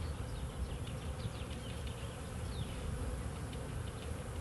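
A dense, steady drone of many bees buzzing close up at an open hive during inspection, continuous and unbroken throughout.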